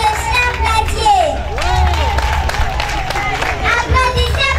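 A crowd applauds and cheers at a French-speaking campaign rally for a political duo, clapping steady and dense throughout, with people talking and calling out over it.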